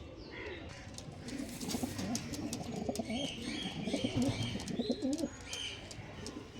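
Pigeons kept for sale coo and chirp up close in a steady, overlapping chorus, with no voices over them.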